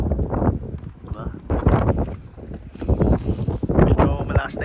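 Strong wind buffets the microphone at the seaside while fishing at Wollongong, coming in loud, uneven gusts and rumbles across the whole stretch.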